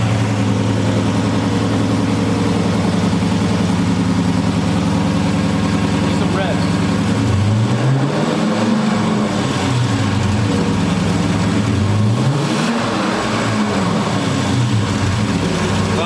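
A 2011 Dodge Charger engine with a loud exhaust idles with a deep throaty drone, then revs up and down twice.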